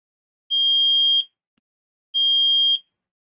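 A buzzer alarm switched on through an ESP8266 board gives two identical shrill electronic beeps, each under a second long, separated by silence, close and loud.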